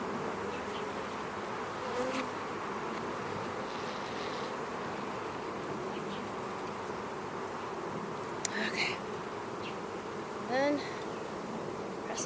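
Honeybees buzz around an open hive during a beekeeper's inspection, a steady, dense droning hum that holds throughout at moderate distance, with a few brief louder passes of individual bees close by.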